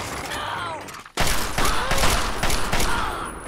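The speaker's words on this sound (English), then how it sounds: "Chinese assault rifle." A Chinese assault rifle fires in Fallout 3 on PC as loud rapid automatic bursts at close range, starting suddenly after a tense ambient lead-in and running in fast rattling volleys to the end.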